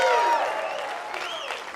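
A conference audience at a demo day pitch event cheers and applauds in a short burst, loud at first and then fading, with voices mixed into the crowd noise.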